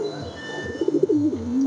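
Mukhi pigeons coo close by in a soft, rolling low call, a brief throaty burst rising over a quiet background.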